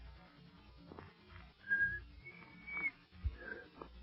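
A person tries to whistle, producing a few short, breathy, wavering whistled tones with pauses between attempts, faint and thin against quiet room noise.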